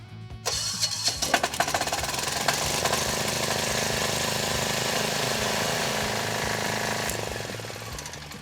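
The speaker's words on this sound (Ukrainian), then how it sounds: "затискаємо декомпресор та повертаємо ключ запалення" A diesel generator is started with the ignition key while the decompressor is held. It catches almost immediately with a knocking, clattering burst and settles into a loud, steady idle that runs until near the end.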